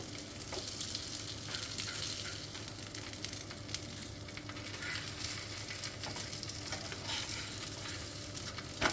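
Catla fish pieces sizzling in a pan as they are flipped, a constant frying hiss with scattered crackles and a few light scraping clicks, no voices.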